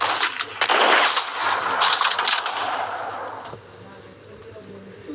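Sniper rifle and flamethrower fire in the Free Fire game, a dense burst of loud shots with a crackling rush that fades toward the end, with some voices underneath.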